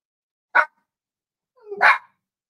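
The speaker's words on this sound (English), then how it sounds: "I don't know what they're barking at." Dogs barking outdoors, two separate barks about a second apart: a sharp short one, then a louder, longer one, with no talk over them.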